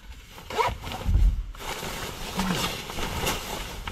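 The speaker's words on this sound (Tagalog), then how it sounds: "may zipper yung bulsa." A clothing pocket zipper is pulled open or shut in a couple of short rasping strokes, close to the microphone, with no talk over it.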